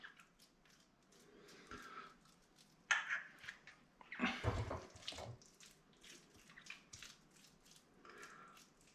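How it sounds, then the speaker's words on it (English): Hands are washed under a running tap in a home kitchen sink while making pigeon burgers, with splashing and rubbing bursts that swell midway then trail off into faint dripping. "Wash my hands again."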